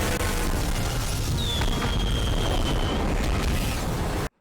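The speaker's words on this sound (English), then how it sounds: "I like how the fireworks go up into a V." Fireworks go off amid a dense, continuous rumble of booms, with a thin whistle streaking through the middle, then the sound cuts off abruptly.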